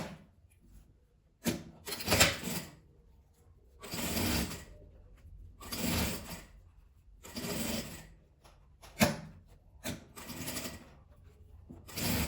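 Sewing machine stitching a seam on a fabric tulip wallet-pouch, running in several short bursts of a second or so each with quiet pauses between, close and moderately loud.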